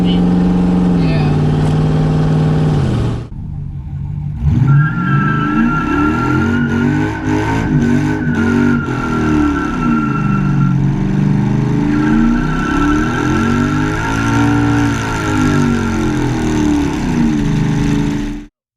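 LS-swapped Ford Crown Victoria V8 revving hard and holding high during a tire burnout, a loud sustained engine roar with pitch swells, a short dip near the start, and voices faintly under it.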